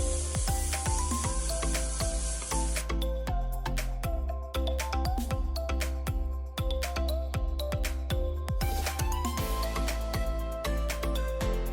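Fresh coconut barfi mixture and a spoonful of ghee in a kadhai give off a constant soft sizzle, with sharp, regular spatula scrapes and clinks against the pan throughout.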